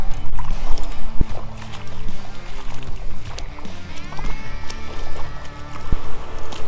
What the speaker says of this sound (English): First time wet wading of the year too.